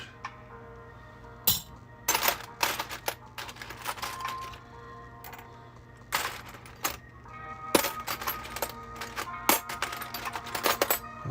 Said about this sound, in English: Just going through my keys.